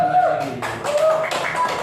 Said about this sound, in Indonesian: tepuk tangan yang kencang dulu kelompok 5